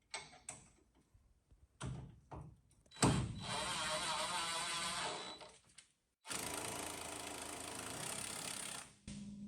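An impact wrench works on brake parts during a 1963 Mercury Meteor drum-to-disc brake conversion, with two loud, close, buzzing rattling bursts of a few seconds each, set off by clanks and tool handling.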